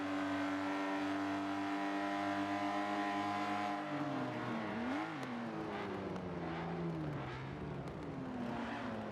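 Race car engines at Monza in a racing video game, a loud sustained multi-toned engine drone that shifts as revs drop under braking, then climbs and wavers with overlapping cars, continuous with no talk.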